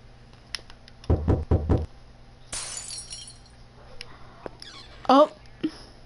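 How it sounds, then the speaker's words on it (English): Glass shatters in a video game, a sharp breaking crash followed by scattered knocks and a short clinking burst, with loud game noises nearby and a voice reacting. "Did you hear that glass break?"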